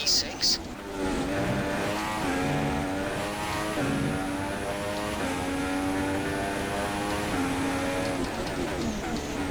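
Formula 1 car engine in the racing game F1 2016 during Canadian Grand Prix qualifying, a loud high whine with rising pitch sweeps as the car accelerates and shifts gears through several upshifts.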